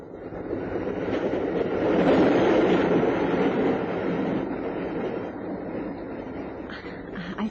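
A train compartment rumbles on a journey west, with a steady rolling clatter of wheels swelling and easing, and faint squeals near the end.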